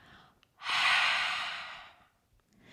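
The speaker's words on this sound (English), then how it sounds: "If you put your hand in front of your mouth and breathe out" A single long breath out in cold winter air, a soft close airy exhale lasting over a second, with a faint intake of breath just before and after, otherwise quiet.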